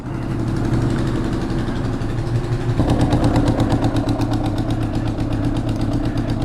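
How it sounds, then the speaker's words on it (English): A motorcycle engine idles steadily with a low rhythmic thrum, then the pitch and pulsing rise noticeably partway through as the idle is adjusted, loud and close with no voices. "Maybe I can adjust that idle some more."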